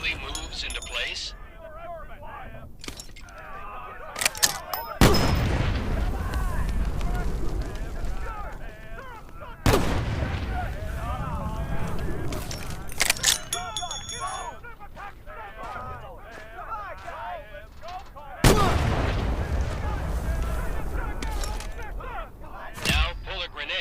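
Grenades thrown in the World War II virtual reality game Medal of Honor VR exploding in three heavy, booming blasts spaced several seconds apart, each followed by a rumbling tail, with honking and ambient game sounds between.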